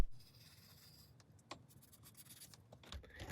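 A pencil scratches across cardboard while a gauntlet piece is traced out, quiet close strokes in short uneven bursts with small taps and pauses between them.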